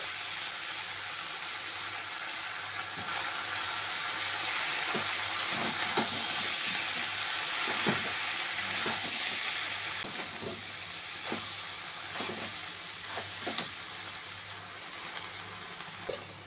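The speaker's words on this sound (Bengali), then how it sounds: "সবজিটাকে কিছুক্ষণ রান্না করে নিয়েছি, এখন আমি তেলা কচু শাকটি দিয়ে দেব।" Taro leaves (tela kochu shak) fry in a hot pan with vegetables, giving a steady close hiss broken by scattered scraping clicks as they are stirred.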